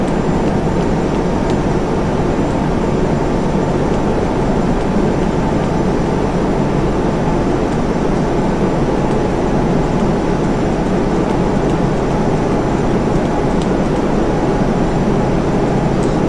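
Boeing 747 jet engines in the FSX flight simulator during a touch-and-go and landing at Heathrow, a loud continuous broadband roar with a steady low rumble, unbroken and alone.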